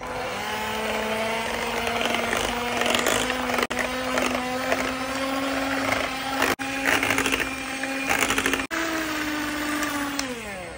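Electric beater whirs steadily while whipping ready-made tinned mango pulp mixture for mango bar ice cream, its loud motor tone rising and falling in pitch, with a few short pauses.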